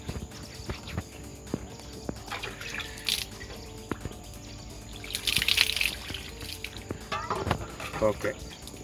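Water splashes and trickles as soil is washed off a freshly picked garden watermelon, with irregular splashes and drips and voices talking nearby.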